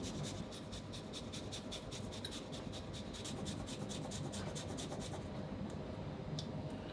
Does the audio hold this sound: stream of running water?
no